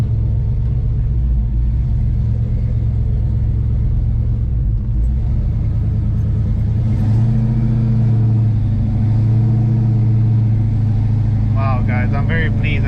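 A 1970 Chevelle SS with drop springs and a sway bar rumbles steadily from inside the cabin on the road, its engine droning low and constant and swelling briefly as it accelerates.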